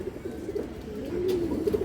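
Close, low cooing from a pair of farm pigeons, a short throaty, rolling coo rising and falling over a faint background hum.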